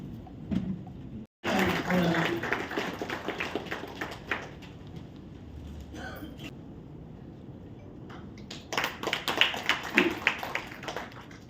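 Audience clapping at a Jai Bhim Akhila Bharata Dalita Kriya Samiti anniversary event, bursts of close crowd applause mixed with a speaker talking over a PA.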